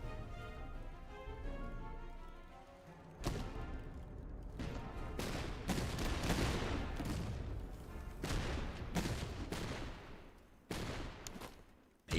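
Musket volleys crackle in an 18th-century war video game, with a dense rolling rumble of massed gunfire building into repeated sharp bursts of shots over several seconds.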